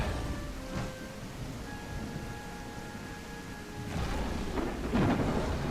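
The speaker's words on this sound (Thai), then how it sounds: "โอ้ฟ้าผ่าด้วย" Thunder from a storm swells into a heavy, broad rumble partway through over a constant wash of rain, fairly quiet overall.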